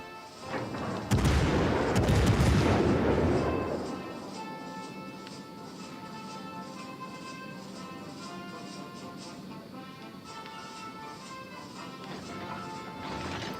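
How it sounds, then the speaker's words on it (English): An enemy battleship destroyed in the naval video game World of Warships: Legends, a loud crashing explosion lasting a few seconds, then a lingering tonal game soundscape with a quiet hum. "We destroyed an enemy battleship."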